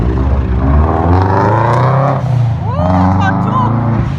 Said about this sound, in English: It's a Subi. And Cindy likes that car's engine because her son had one.